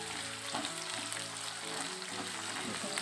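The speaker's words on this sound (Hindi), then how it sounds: "हरी प्याज भूंज रही है।" Coarsely chopped green onions sizzle steadily in a pan while browning for a paneer gravy, a soft, even frying hiss that continues throughout.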